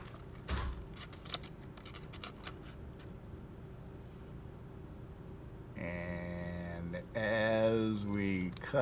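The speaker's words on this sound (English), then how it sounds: "As we cut on that line that we made drawing the blanks" Scissors snip through paper along a drawn line in a few sharp cuts during the opening seconds, then a voice speaks briefly and music takes over the second half.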